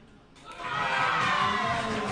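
A crowd at a junior 8-ball pool tournament in New Zealand breaks into cheering and shouting, swelling from quiet to a loud, sustained roar.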